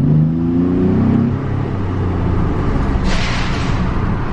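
A 2017 Chevrolet Colorado Z71 fitted with an aFe cold air intake revs loudly up close, its engine note climbing and then holding as a heavy, steady drone with a burst of rushing intake noise near the end.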